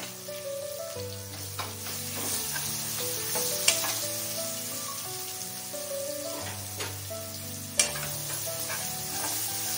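Two medium onions sautéing in a pan for a Maharashtrian pithla, browning with a steady, soft sizzle and occasional stirring clinks, heard under background music without talk.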